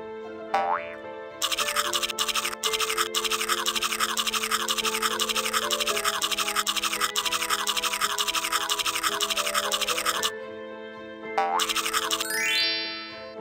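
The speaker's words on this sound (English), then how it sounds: "Move the toothbrush up and down over Hansel's teeth to give them a good clean" A cartoonish toothbrush-scrubbing effect from a Hansel and Gretel pop-up storybook game buzzes rapidly back and forth over bright musical tones, running steadily for about ten seconds, then returning briefly after a pause.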